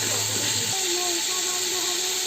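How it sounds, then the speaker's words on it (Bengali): Peas and vegetables frying for veg pulao in a pan, a steady broadband sizzle and hiss running throughout, loud and close, with a faint tonal hum over it. "মটরশুঁটি দিয়ে এগুলোকে আরও ভালো করে ফ্রাই করতে থাকবো।"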